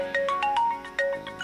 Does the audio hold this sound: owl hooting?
no